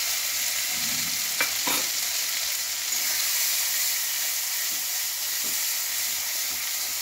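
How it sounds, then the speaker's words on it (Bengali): Spice masala stirred and fried in a kadai: a steady loud sizzling hiss with a few scraping stir strokes, no voices. "এবার আমি এই মশলাটাকে আবার একটু কড়াইতে দিয়ে নেড়ে দিচ্ছি।"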